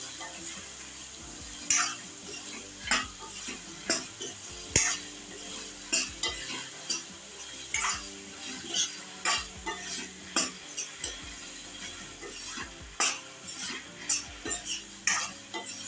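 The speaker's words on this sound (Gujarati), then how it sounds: "હળદર અને મીઠું નાખીને આપણે શાકને મિક્સ કરી લઈશું" Ridge gourd curry seasoned with salt and turmeric gets stirred in a pan, with a steady run of close, sharp spoon scrapes and clanks against the metal and a faint sizzle underneath.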